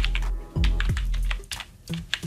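Keys clatter on a computer keyboard as a short command is typed on a Windows 11 PC, with a quick run of close, crisp clicks and brief pauses.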